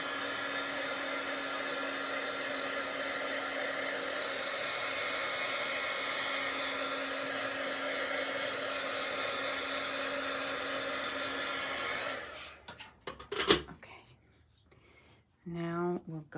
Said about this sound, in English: So I am going to hit this with the heat tool for a second